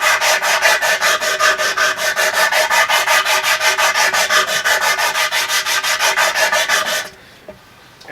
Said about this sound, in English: of a piece of real rough, like 60 grit. I'm using it like emery cloth.